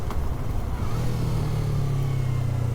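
Motorcycle heard on the move from the rider's position, a low engine drone that settles into a steady pitch with some wind rush around it, close and constant.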